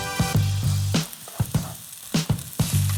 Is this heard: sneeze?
no